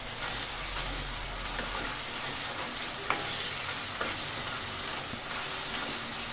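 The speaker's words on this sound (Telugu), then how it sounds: "అల్లం వెల్లుల్లిపాయ పేస్ట్ కొంచెం వేగే వరకు ఉడికించుకుందాం" Ginger garlic paste frying in a pan for a cucumber chicken curry, a dense, continuous loud sizzle and crackle close up, with a few light spatula scrapes and no talk.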